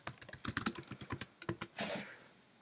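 Fingers tap out a command on a computer keyboard in a quick, uneven run of crisp clicks, followed by a brief heavier key press and a short soft rustle, close and clear with no talking.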